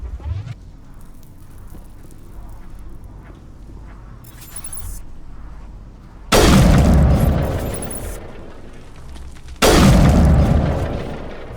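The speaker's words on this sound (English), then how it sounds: "the anti-Thorian gas grenades do work on the creepers" Anti-Thorian gas grenades exploding on creepers in Mass Effect: two loud, sudden booming blasts a few seconds apart, each followed by a decaying rumble, after a quieter stretch of game ambience.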